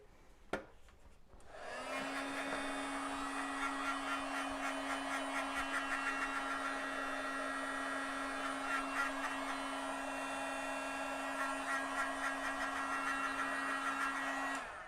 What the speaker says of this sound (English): I'm going to hit it with my heat gun one more time.